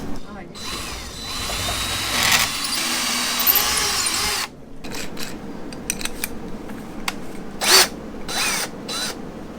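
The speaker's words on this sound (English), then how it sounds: "I think I want to drill this out even a little bit bigger" A power drill whines steadily for several seconds drilling through a countertop on a boat, stops, then revs in short bursts with scraping and grinding sounds in between.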